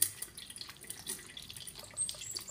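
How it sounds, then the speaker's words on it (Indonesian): Faint drips and trickles of water fall from a cloth being folded and rolled up to squeeze it out, soft and close with no speech. "ini langsung dilipat dia, gulung agar dia airnya keluar"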